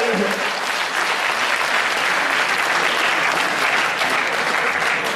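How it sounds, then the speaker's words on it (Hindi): Auditorium audience clapping loudly and steadily, a dense, even wall of applause lasting the whole stretch with no break. "जोरदार ताली बजाएं"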